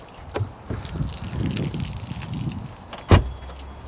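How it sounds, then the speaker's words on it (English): A water-damaged Jaguar's car boot is opened: low rustling and handling noises build up, then a single sharp, close latch clunk rings out, followed by a quieter settling rumble. "Come and open this boot."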